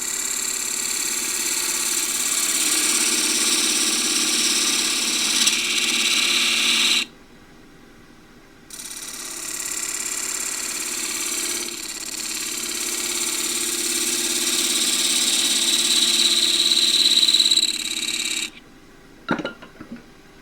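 A wood lathe turning a display dish as a 3/8 spindle gouge cuts, producing a steady whirring hiss with a brief pause midway, then cutting resumes before stopping with a few small clicks and knocks.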